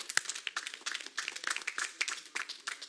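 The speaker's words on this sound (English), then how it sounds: "Another round of applause." Applause at a city council meeting, a modest group of hands clapping in uneven bursts for about three seconds, moderately quiet and fairly close, with no talk over it.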